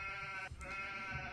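A sheep bleats once in the video game Age of Empires, a short wavering call over a steady humming game soundtrack.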